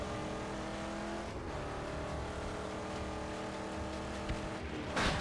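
In the Mad Max video game, a car engine hums and revs at a steady, moderately faint level with a rough, sustained drone, and a brief louder burst comes near the end.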